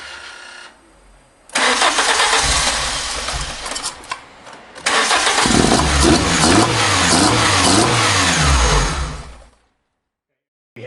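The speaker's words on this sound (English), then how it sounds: "We'll start the car." A car engine cranks and fires up after a KTR Sport throttle body kit installation, with a brief first attempt, then a strong start and revving idle before cutting off near the end; a voice speaks briefly.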